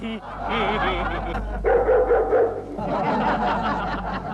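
A hungry dog kept outside a home barks and yips in short bursts, mixed with whimpering, under an ongoing background of indoor chatter and speech.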